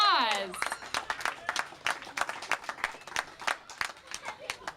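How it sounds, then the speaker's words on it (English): A crowd claps steadily for several seconds, a dense patter of many hands, opening with a brief high whistle or cheer. "Give yourselves a round of applause."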